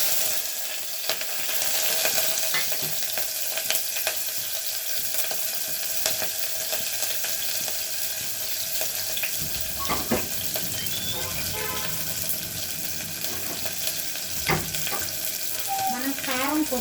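Mustard seeds fry and sizzle steadily in a pan for a village-style bottle gourd curry, a constant hiss with scattered crackles and a few clinks of stirring, no voice present.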